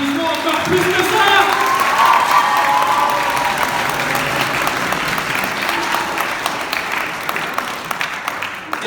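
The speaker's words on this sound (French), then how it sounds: "Et elle mérite vraiment un tonnerre d'applaudissements encore plus que ça!" Loud, sustained audience applause at a costume contest event, dense steady clapping filling the whole stretch without a break, with some faint voices underneath.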